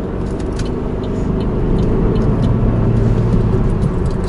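Manual-transmission car accelerating in fourth gear, a steady engine drone and low road rumble that builds slightly and holds loud and close from start to finish, with no talk.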